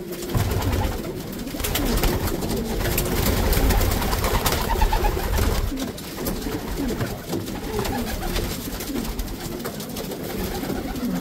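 Racer pigeons of the kapus breed coo in a loft at G.K Loft in Uruli Kanchan, a dense, continuous layer of low, throaty calls from many birds close by, with wing and shuffling noises mixed in and no talk.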